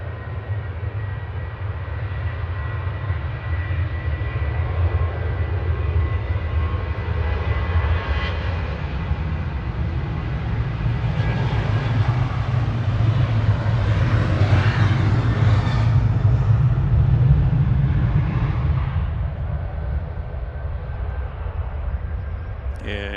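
A Norwegian airliner departs Manchester Airport bound for Copenhagen, its engines a steady low rumble that builds gradually and peaks before easing, heard from a distance.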